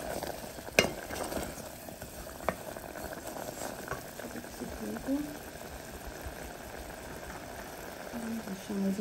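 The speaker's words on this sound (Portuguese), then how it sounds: "Vai ficar mexendo até derreter." Caramel for pudding being stirred in a pot as it melts: a low bubbling, scraping stir with a few sharp clinks of the spoon against the pot, fairly quiet and steady throughout.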